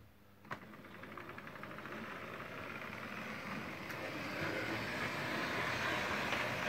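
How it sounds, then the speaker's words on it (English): An OO gauge model locomotive driven by twin Ringfield motors and fitted with traction tyres runs steadily on track, giving a faint, even whirring hum that grows slightly louder over several seconds after a brief click at the start. "This is just that locomotive with the twin ringfield motors, two traction tyres and nothing else."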